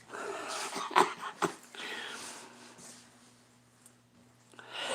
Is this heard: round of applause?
no